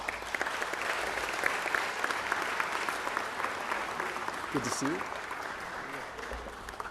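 Audience applause for an honoree family coming up at an Italian American heritage celebration, a steady crowd clapping throughout with a brief spoken greeting over it.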